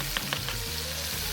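Food, steak, shrimp and vegetables, sizzles steadily on a hot live-fire grill, a close crackling hiss with a few soft taps at the start, no talking.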